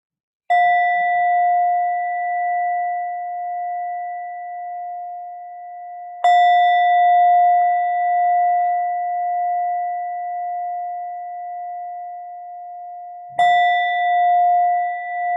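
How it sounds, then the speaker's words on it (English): A meditation bell struck three times, each a clear sustained ring that slowly decays and is cut short by the next strike, steady and loud in an otherwise silent space. "In a moment, you'll hear the sound of the bell."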